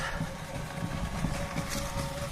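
A 550 W servo motor running a tea-leaf rolling machine built of waterproof plywood soaked in beeswax, with a steady mechanical drone and a constant high whine, plus faint rumbling underneath.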